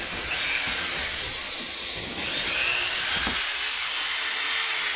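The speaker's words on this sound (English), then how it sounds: "use a Dremel and to cut your way through it" A Dremel with a cutting bit grinds down through a wooden piece for a table build, a loud, close, steady hissing rasp that dips briefly midway, then resumes.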